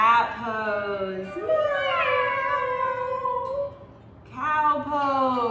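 Children's voices imitate a cat's meow during a yoga class, drawn-out wavering meows repeated twice with a pause between, close and fairly loud.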